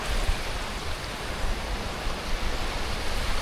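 Ocean waves wash steadily on a shore near Malacca, Malaysia, a dense, even hiss of surf with no talk, close and continuous throughout.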